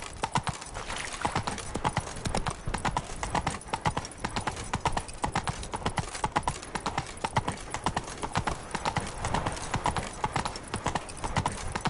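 Horse hooves clip-clop in a steady, brisk rhythm as a rider travels in the video game The Witcher 3, close and continuous throughout over faint background game sound.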